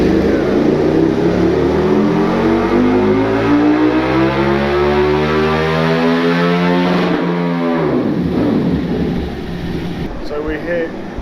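KTM RC8 motorcycle with a Jester exhaust running hard on a dyno, a loud, close engine sweeping up through the revs with a rising harmonic whine, then backing off and settling to a lower drone.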